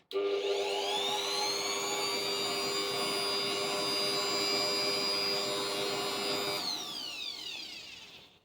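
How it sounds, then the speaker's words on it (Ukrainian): An RZTK BL600E electric blower runs on its minimum speed, blowing dust away. It gives a loud, steady, close whine with a rising pitch at start-up, then winds down and fades toward the end. "я вмикаю мінімальну швидкість. І зараз ми пробуємо прибрати нашу пилюку"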